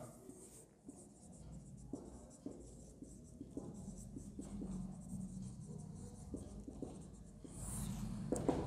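Marker or chalk scratching out notes on a board during a chemistry class, with soft, faint strokes in short irregular bursts over a quiet room hum and no talking.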